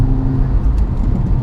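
A 500 BHP Audi RS3 8P accelerating hard under boost in third gear, a loud, close, deep engine drone and rumble that holds steady.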